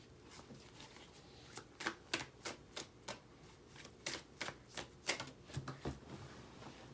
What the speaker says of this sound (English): All the cards falling on the floor.